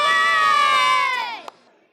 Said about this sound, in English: the fans showed up to cheer on the Bruins